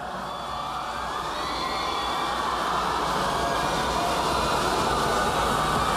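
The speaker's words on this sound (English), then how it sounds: "Let's give them a big round of applause for having reached this far" Crowd applause and cheering for the top 10 semi-finalists of a pageant competition in Naga City, Philippines, a steady dense roar held loud throughout.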